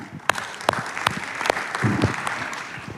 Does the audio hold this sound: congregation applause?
yes